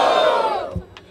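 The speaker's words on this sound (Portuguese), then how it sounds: "Barulho para as rimas de JP!" A crowd at a rap battle in Barueri, São Paulo, lets out one loud unified shout that fades within a second.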